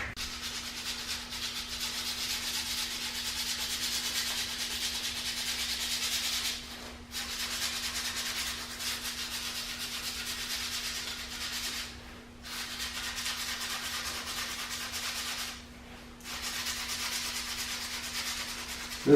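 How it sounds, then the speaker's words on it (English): Wood being sanded by hand on a long stick, a steady raspy rubbing that runs on and on with a few brief pauses, close and fairly quiet over a faint constant hum. "I'll let you watch me sand for a little bit here, just to prove that I'm doing it by hand."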